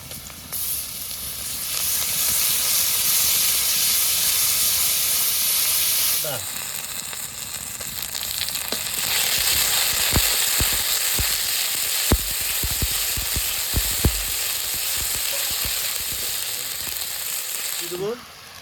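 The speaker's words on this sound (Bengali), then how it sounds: "হালকা ভেজে নিচ্ছি এবার রসুন দিয়ে দেবো" Onions frying lightly in a pan before garlic goes in, a loud, steady sizzle and hiss that dips briefly partway through, then carries on with scattered scrapes and clicks.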